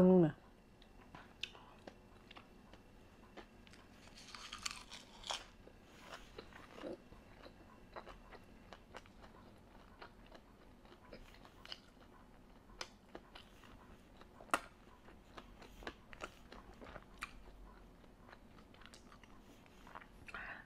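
Someone bites into a homemade sushi roll and chews it close to the mic, with soft repeated crunches and wet mouth clicks scattered over a quiet background, plus brief faint whispering.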